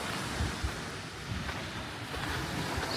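Waves wash steadily onto the Lake Huron shore in a light breeze, a continuous close roar of surf with faint wind buffeting on the microphone and no talking.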